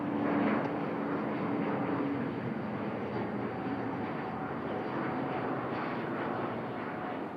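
An airliner departing Bangkok for Singapore roars steadily on its takeoff climb, a broad, loud engine rumble that holds evenly throughout with no voices over it.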